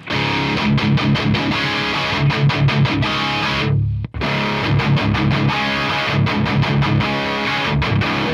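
An electric guitar played through an ENGL Savage 120 mk II amp with the boost switched off chugs out loud, high-gain palm-muted riffs with rhythmic stops, and one brief silent break near the middle.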